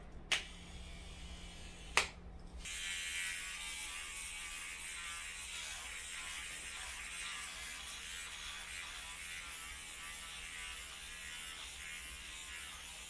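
A two-blade electric eyebrow trimmer gives two sharp clicks, then starts up into a steady, close, continuous high buzz that runs to the end with no voices.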